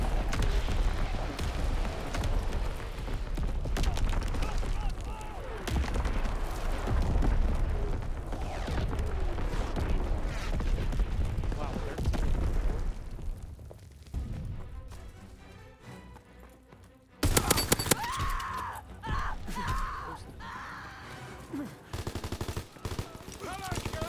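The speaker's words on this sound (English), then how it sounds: "Incoming enemy artillery! Get to cover!" Incoming enemy artillery and battle in Call of Duty WW2, dense bursts of gunfire and explosions thundering for a long stretch, then a brief lull and renewed blasts, with voices over the combat.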